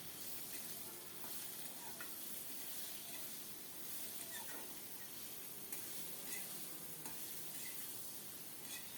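Sliced ridge gourd and potatoes being stir-fried in a pan give a faint, steady hissing sizzle with light scraping from stirring throughout.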